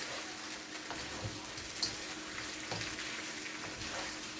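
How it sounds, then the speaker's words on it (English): Peppered shrimp being stirred in hot oil in a pan, a faint steady sizzle with soft scraping and clinks of the utensil. "So now I'm just stirring."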